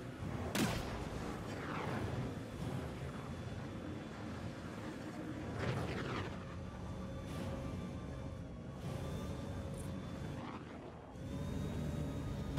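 Gunfire in the space game Star Citizen aimed at alien vegetation: several sharp shots and booming impacts scattered across a steady background rumble, moderately distant and even in level.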